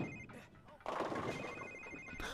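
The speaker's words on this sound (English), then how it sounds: "I thought that was an actual phone" A phone rings faintly in The Sims 3 University Life amid busy game sounds and background noise, a thin repeated electronic tone running through the short stretch.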